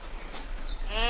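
A sheep bleats once in a snowy field, a short wavering cry rising at the end over faint background noise.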